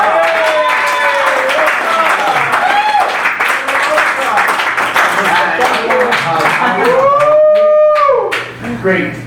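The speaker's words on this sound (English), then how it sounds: "Give Rosa a round of applause" A room full of people applauds for Rosa in a weekend NLP practitioner class, loud sustained clapping with whoops and voices mixed in, tapering off near the end.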